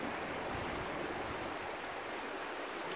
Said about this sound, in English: Just down here, you can see Hebden Water.